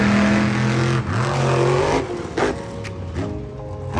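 The 2022 Lucas Stabilizer Monster Jam monster truck's engine revs loudly in rising, falling surges, with gear-like pitch sweeps and brief dips between pulls, close and without talk.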